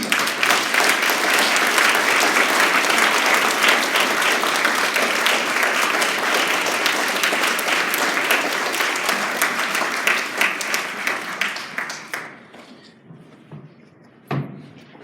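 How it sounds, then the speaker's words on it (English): Audience at a spelling bee final claps in a sustained, dense round of applause lasting about twelve seconds, then thins into scattered claps and stops, followed by a single thump near the end. "So a round of applause."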